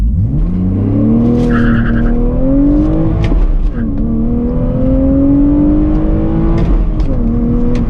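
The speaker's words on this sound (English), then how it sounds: "Let's go ahead and launch it, shall we? All right, from a standstill, put it in first." A manual BMW Z4 sports car engine revs hard launching from a standstill and climbs steadily through the gears with a tire chirp, loud and close, no talking.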